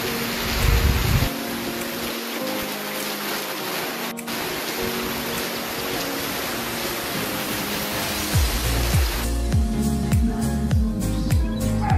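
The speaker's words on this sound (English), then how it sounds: "It's a bright sunny day, but it's raining." Steady, broadband hiss of rain falling on a bright sunny day, with some low rumbling and brief louder bursts near the start.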